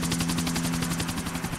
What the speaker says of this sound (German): Bitte lass uns im Helikopter aber schon starten.